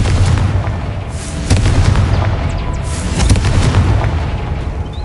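A Confringo spell explosion in the video game Hogwarts Legacy: a loud, sustained booming rumble with deep blasts and crackling, like artillery or fireworks, that fills the whole stretch.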